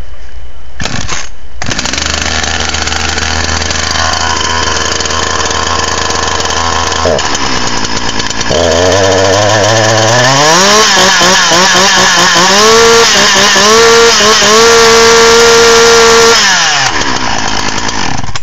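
A chainsaw started with the ground start method fires up with a couple of sharp pulls, then idles loudly and steadily before revving up and down in rising and falling surges near the listener, finally cutting off.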